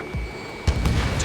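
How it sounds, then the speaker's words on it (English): A fighter jet's missile launch in Ace Combat 7: a whoosh and thump near the middle, set against steady cockpit engine drone, with a smaller bump just before. "Missile fired."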